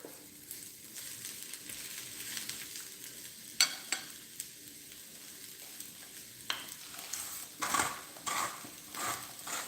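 A full sliced onion and pepper fry for cheesesteaks, giving a steady moderate sizzle with occasional sharp utensil clacks and stirring scrapes, no talking.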